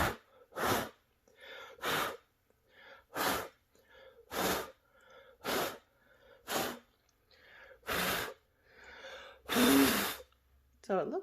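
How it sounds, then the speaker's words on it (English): Someone blows puffs of air from the lungs, about ten sharp breathy bursts at an uneven rhythm, close and alone. "Sorry about you listening to me breathe."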